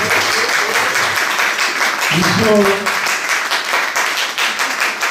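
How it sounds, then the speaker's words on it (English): An audience applauds at the close of an interview, dense steady clapping filling the room from start to finish, with a voice briefly calling out partway through. "let's give him a round of applause, please."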